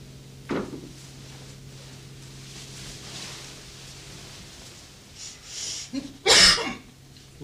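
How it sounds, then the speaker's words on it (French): A young woman gives a sharp single cough early on, then a rougher burst of coughing and throat clearing near the end, in a quiet indoor setting with faint background hum. "Où avez-vous pris cette affreuse toux, ma chère enfant?"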